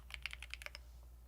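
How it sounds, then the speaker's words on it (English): Rapid burst of computer keyboard typing, about eight crisp close keystrokes in under a second, then quiet room tone with a low steady hum. "Keyboard sounds so good."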